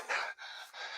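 Breathy panting and gasping from characters in a Thor movie scene, two or three short breaths loud and close with no other sound.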